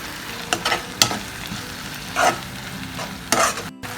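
Onions and tomatoes sautéing for thakkali thokku, a spatula stirring and scraping the pan in a few distinct strokes over a low background sizzle, close by.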